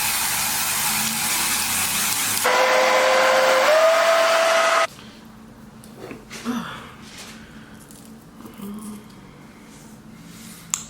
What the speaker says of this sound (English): spray a little bit of lace tint on this lace to get it a little closer to my